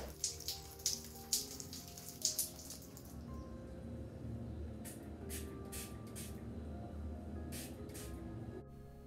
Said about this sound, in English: So I'm spraying it on generously until I feel like it's detangling.